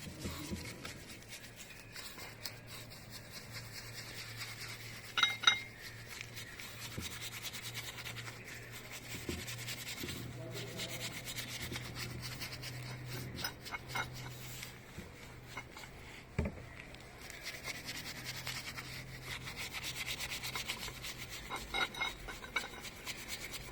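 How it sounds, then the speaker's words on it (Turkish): A brush scrubs steadily at thick grease coated with degreaser, giving soft, continuous rasping and scratching strokes with a few louder scrapes, faint and close with no talking. "Fırça kullanmamızdaki amaç hem üstteki kalın yağ tabakasını delmek"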